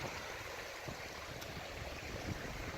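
A desert stream flows from an oasis in Palm Canyon, giving a soft, steady trickle and gurgle of running water that is fairly faint and continuous.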